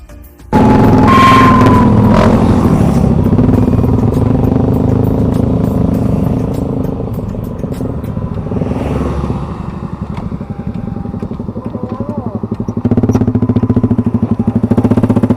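A motorcycle engine with a DCUT V4 exhaust pipe runs loud and close, revving with rough rapid backfire popping bursts, steady throughout with a few sharper cracks.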